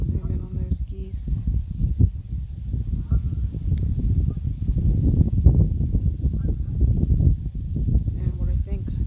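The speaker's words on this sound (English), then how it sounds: "See if I can zoom in on those geese." Geese honking near a water's edge at a bluff overlook, calls faint and intermittent behind steady wind rumble and a person talking close by.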